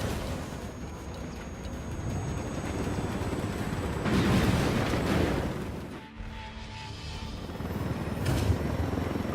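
Helicopters are destroyed in the video game Ghost Recon Wildlands, with a dense, roaring rumble of rotor noise and explosion blasts, loud and sustained, swelling in the middle before settling into a steady drone.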